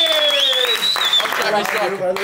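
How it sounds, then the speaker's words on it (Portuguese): A small group claps and cheers to celebrate a newly lowered car, with voices calling out over the close, lively applause. "Salve de palmas pro Nome MX aí"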